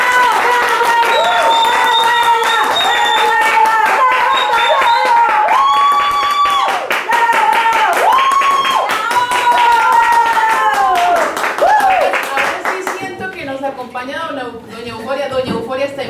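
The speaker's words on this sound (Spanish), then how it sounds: "Recibamos con un fuerte aplauso a Manuela Osa." An audience claps and cheers to welcome a guest speaker at a talk, many hands patting steadily for about sixteen seconds while singing voices or music ring prominently over the clapping.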